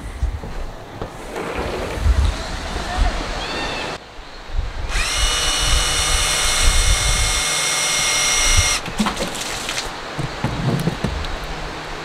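A drill-powered pump draws water from an aquarium sump, its motor whining in a steady high-pitched drone for several seconds over a background of gushing, splashing water, then cutting off.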